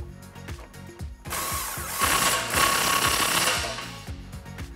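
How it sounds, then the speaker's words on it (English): A power impact tool runs a 21mm socket onto a tie rod nut on a Dodge RAM 1500 during a front leveling kit install, with a loud, steady burst of rapid hammering that ramps up and holds for a few seconds before tapering off. "Then I'll come in with my 21mm socket and tighten this up."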